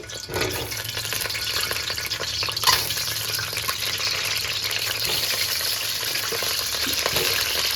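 Eggs fry in a few spoonfuls of hot oil for an egg and potato biryani, giving a steady, close crackling sizzle throughout with a brief louder pop partway through.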